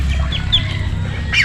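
A duck kept on a rural Filipino homestead gives a few short, nasal calls in close succession, sounding loud and near with no one speaking over it.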